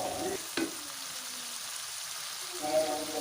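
Onions sizzling and being stirred in a spice paste in a pan, a steady frying hiss with a brief scrape of stirring near the start, close and moderately loud.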